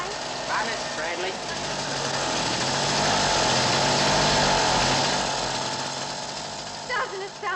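Motorbike engine running steadily close by with a rough, buzzing, rattling drone that swells and fades over several seconds, and people speaking briefly at the start and end.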